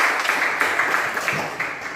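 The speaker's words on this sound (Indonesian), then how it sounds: "tepuk tangan untuk Friska" A classroom of students claps for a classmate after her answer, a brief, moderately loud burst of mixed hand claps with no talking.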